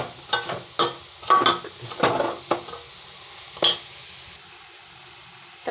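A taro leaf stir-fry being stirred in a pan, with several quick scraping and clattering strokes of the spoon against the metal, close and fairly loud. A lid then goes on, and only faint quiet remains.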